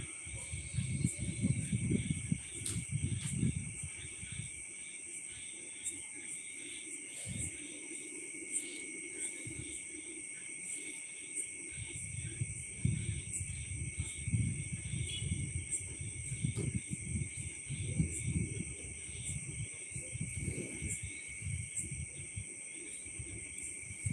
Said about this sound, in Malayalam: കിർ കിർ കിർ കിർ ചീവീട് കരയുന്ന ഒച്ചയൊക്കെ കേൾക്കുന്നുണ്ടോ